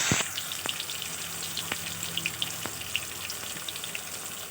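Chopped tomatoes frying in hot oil with bay leaves and whole cumin, giving a steady close sizzle with a few sharp clicks of a utensil against the pan and no talking.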